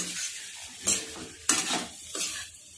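Spiced potatoes stirred in a pan, a few short scraping, sizzling strokes close by with quiet gaps between them.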